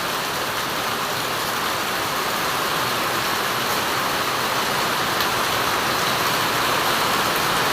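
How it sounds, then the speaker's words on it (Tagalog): Heavy rain pours steadily and loudly in a dense, unbroken hiss, the kind of downpour that floods streets and reaches nearby houses, with no voices over it. "Sa ganito kasi kalakas na ulan, talagang may babaha talaga ito."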